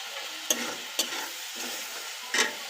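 Spice paste being stirred and fried in a pan while cooking a chicken curry, with a steady close sizzle broken by several sharp scraping stirs of the spoon against the pan.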